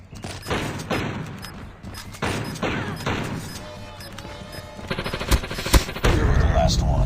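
Rapid automatic gunfire from a Dragunov-type rifle and P90 in the mobile shooter Call of Duty Mobile, loud bursts and single shots piling up close, with game effects and a voice talking beneath.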